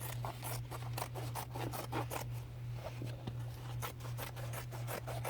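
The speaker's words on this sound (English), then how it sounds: "I'm just going to cut this right here." Scissors snip through denim fabric in a steady run of quick, crisp cuts, close but quiet, over a constant low hum.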